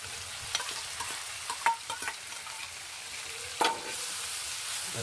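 Chopped onion goes into a hot pan for a Gujarati Sholay shaak and fries with a steady broadband sizzle, broken by several sharp spoon-stirring scrapes and clicks, close up and with no voices.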